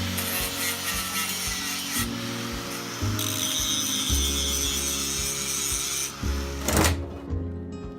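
Welded steel on an anvil being ground back with a power tool, a continuous loud abrasive rasp with shifting tone and a brief change in pitch near the end, no talking.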